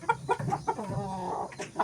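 A fighting rooster clucking close by, several short throaty clucks in quick succession with a longer drawn-out call in the middle, heard alone without speech.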